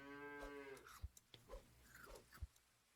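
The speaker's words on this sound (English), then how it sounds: "Buy the cow." Cartoon cow moo from the video game Super Auto Pets, a short voiced lowing call followed by a few quick clicks and thumps, with no one speaking over it.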